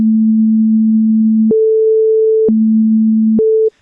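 Pure FM synth tones alternating between a lower and a higher pitch an octave apart, each held about a second, steady and loud, then cut off.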